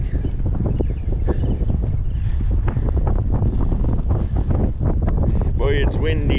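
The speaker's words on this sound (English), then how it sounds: "Boy, it's windy." Steady wind buffeting the microphone on a fishing pier at the W.P. Franklin Lock and Dam in Alva, Florida, rumbling low and constant throughout, with a person talking over it.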